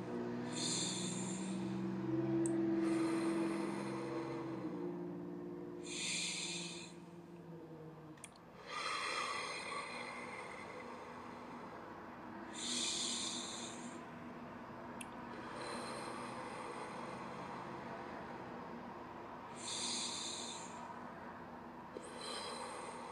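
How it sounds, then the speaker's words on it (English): Slow, deep breathing exercise drawn in and out through the nose, heard as long repeated breaths with airy hissing bursts at steady intervals, close and fairly loud with no talking. "Some nice breathing techniques, kind of clears the head."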